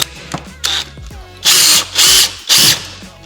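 A power drill drives a T25 screw into a wall stud for a metal floating shelf bracket: a few short taps, then three loud whirring bursts in a steady rhythm, close up.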